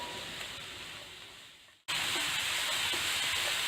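Mushrooms stir-frying in a pan over a high gas flame, a loud continuous sizzling hiss that fades briefly, cuts out, then returns stronger and steady.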